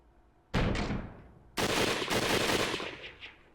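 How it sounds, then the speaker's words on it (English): Gunfire in a Hakuoki video game battle scene at Toba-Fushimi, fired from an entrance: a sharp loud shot, then a second burst of rapid shots with a reverberant tail. "A gunshot sounded from the entrance."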